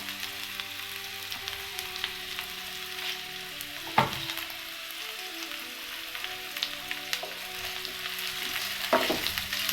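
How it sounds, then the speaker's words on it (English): Chilli garlic sausages frying in a pan give a steady, low crackling sizzle throughout, with a couple of sharper clatters from the pan along the way. "Just fry them for a couple of minutes until they're somewhat brownish and a bit crispy."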